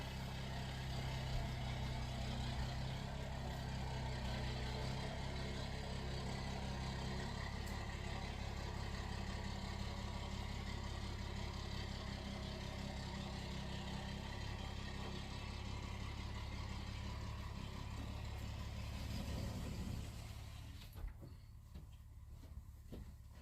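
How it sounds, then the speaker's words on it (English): A diesel pickup truck engine running outside, a steady low rumbling drone heard from indoors that stays even for about twenty seconds before dropping away sharply near the end. "Those diesel pickup trucks are loud."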